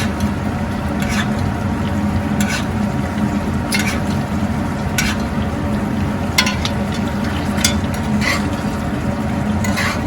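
Steaks searing in a hot pan, a loud continuous sizzle with spaced metallic clinks and scrapes of a utensil recurring every second or so.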